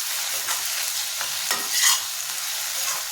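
Garlic paste frying in a pan for a salt fish curry, a steady broadband sizzle with a few stirring scrapes and a brief louder hiss near the middle, close and alone without talk.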